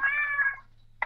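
A cat in the Stardew Valley farming game gives one clear, drawn-out meow, followed by a short silence and a brief clipped second sound.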